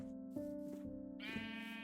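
A Minecraft sheep bleats several times, wavering and nasal, with one higher bleat near the end; the sound is faint and stands alone.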